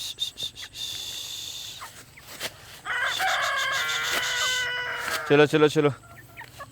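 A flock of broiler chickens on an open farm clucks and squawks, with a strained crow-like call rising in the middle and a burst of loud clucking near the end. A voice repeatedly urges them on at the start.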